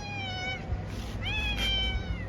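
A kitten meows close by on a street in Sarajevo, Bosnia, two drawn-out plaintive cries separated by a short pause, over faint background noise.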